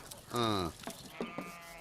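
Goats bleat in a scene from the Tamil film Lesa Lesa: one loud, drawn-out, wavering bleat up close, followed by a few shorter, fainter animal calls.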